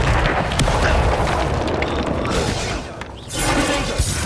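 Fiery spell blast from combat in Hogwarts Legacy, a dense roaring burst that rumbles continuously, dips briefly near the end, then surges again, loud and close with no voices.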